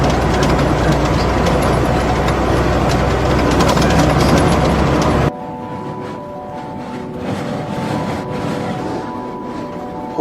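Loud heavy truck engine droning on a Mongolian countryside road, then abruptly easing to a quieter idle-like hum with steady tonal lines as it pulls up and drops through gears.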